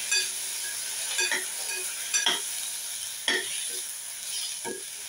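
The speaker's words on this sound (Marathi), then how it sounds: "आतां ही भाजी अशी धवळून घेता" Cluster beans and a potato being stirred in a pan as a bhaji, a spatula scraping in several distinct strokes over a steady close sizzle of frying.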